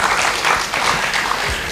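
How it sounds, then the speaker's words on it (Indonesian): An audience applauds warmly at an Indonesian gathering marking International Day of Persons with Disabilities, a loud, dense, sustained wash of many hands clapping with no voices over it. "Kita sekali lagi tepuk tangan yang meriah"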